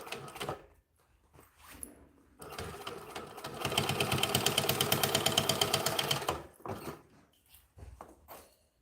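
A sewing machine stitches a decorative line, starting with a few short bursts and clicks, then running steadily for several seconds in a quick, regular chatter before stopping and ending with handling sounds.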